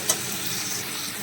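Mashed cauliflower leaves frying in a pan, a loud, even close sizzle that opens with a quick utensil tap and then hisses steadily without talk.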